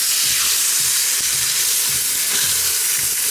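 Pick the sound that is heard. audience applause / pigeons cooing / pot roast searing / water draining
pot roast searing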